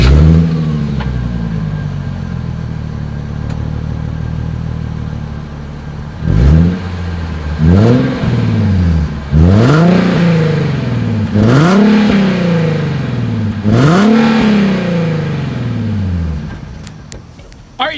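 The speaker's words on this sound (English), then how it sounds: "Here is the 2020 Nissan 370Z exhaust clip." A 2020 Nissan 370Z's exhaust idles with a deep burble, then gets revved five or six times in quick succession, each rev rising sharply and falling back, loud and close.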